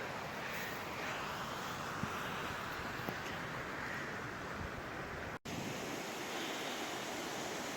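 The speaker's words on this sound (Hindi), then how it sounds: "दरिया का पानी बहता हुआ" River water rushes steadily near Jarogo Waterfall in Swat as a dense, continuous roar, broken only by a brief dropout partway through.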